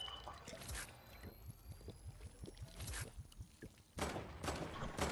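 Rocket launcher fire in an online shooter game: a quick run of sharp, low blasts and thumps at irregular intervals, fairly faint, with a louder burst of noisy explosions near the end.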